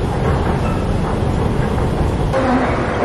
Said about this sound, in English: You're on a train right now.